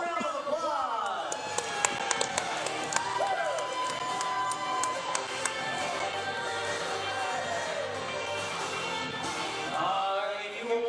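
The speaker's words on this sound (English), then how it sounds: "Give yourself a round of applause." A packed wrestling arena crowd at a charity fight night applauds and cheers in a dense, sustained roar, with scattered sharp claps and shouts and a voice carrying through the noise.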